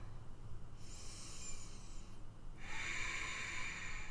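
Two long, slow yogic breaths in pyramid pose, a hissing inhale followed after a short pause by a hissing exhale, close and soft with no speech.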